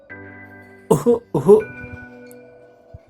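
Two loud, harsh coughs close by over a steady humming background, then quiet.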